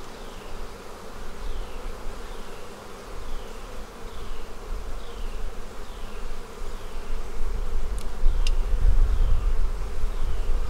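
Honey bees hum in a steady, close swarm as a hive is moved into a bee barn, the buzzing constant throughout with a few short knocks and a low rumble near the end.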